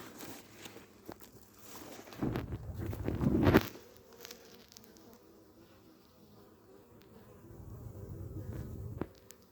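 Honeybees buzzing around a hive as they bring in corn pollen, a close, steady drone that swells loudly for a moment, with a few faint rustles and knocks.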